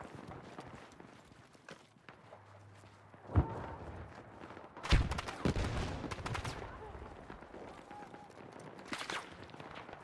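Sniper gunfire in a shooter video game, sharp single cracks spaced a few seconds apart over quieter background noise, some with a rolling echo.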